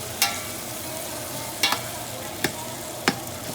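Beef for stew browning in a hot pan, a constant close sizzle broken by four sharp scraping taps as the pieces are turned.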